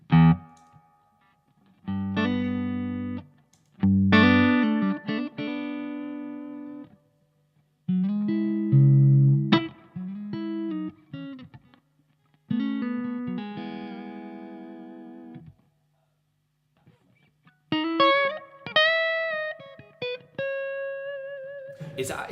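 An electric guitar played through an overdrive pedal set to zero gain, so no clipping, plays clean chords and short phrases with pauses between, each strum ringing out and decaying.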